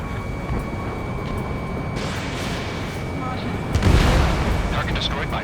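A heavy explosion booms out during an Ace Combat 7 air combat mission as a target is destroyed, rising loud over a continuous roar of jet engine and gunfire noise, with a radio voice speaking over it.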